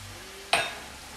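Red wine poured into a very hot sauté pan, bursting into a sudden sharp sizzle that flares for a moment and quickly dies away over a quiet background.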